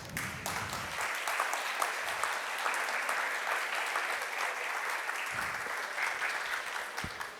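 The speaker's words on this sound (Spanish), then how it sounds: "Que se sientan esos aplausos" Audience applause after a lecture at a conference, a steady dense round of clapping from a crowd, fairly loud and continuous with no talking.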